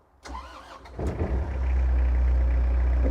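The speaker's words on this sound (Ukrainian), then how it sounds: "давайте, в принципі, запустимо тракторець" A few clicks and a cranking starter, then the four-cylinder engine of an Iseki Geas 46S tractor catches and settles into a loud, steady idle close by.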